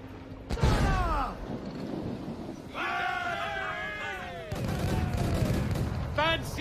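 Ship cannons boom in a naval battle in Assassin's Creed IV Black Flag, several heavy blasts spaced a couple of seconds apart, mixed with shouting crew voices and battle noise.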